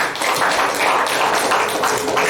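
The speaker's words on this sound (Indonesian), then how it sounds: "Tepuk tangan." Audience applause at a political gathering and declaration event, dense steady clapping from a crowd that fills the whole stretch at an even loudness with no voices over it.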